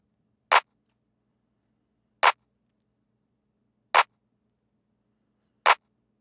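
A clap sample pitched down two semitones sounds four times in a steady, evenly spaced pattern, sharp and dry against silence.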